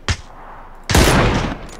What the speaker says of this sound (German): Ich weiß gar nicht, wo meine Schüsse hingehen, Mann.